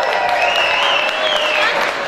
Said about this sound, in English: give yourselves a round of applause for what you have done here